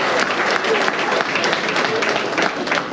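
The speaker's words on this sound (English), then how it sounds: "let's give them a round of applause." A crowd applauds Korean War era veterans with dense, steady clapping that stays loud throughout, with some scattered voices in the mix.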